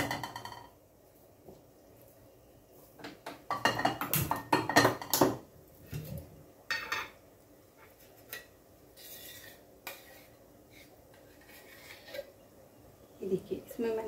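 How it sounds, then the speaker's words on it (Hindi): A kadhai pan is set down on a gas stove amid clattering utensils, metallic clinks and scrapes coming in scattered bursts, with quiet gaps between them. "हम सबसे पहले कढ़ाई रखते हैं गैस पे।"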